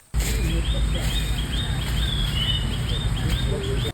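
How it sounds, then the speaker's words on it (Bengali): Several birds call and chirp in the Saranda forest along a path leading toward a river, repeated short high calls over a steady outdoor background with low rumble, with no talking. "আর অনেক কিন্তু পাখির ডাক শুনতে পাচ্ছি।"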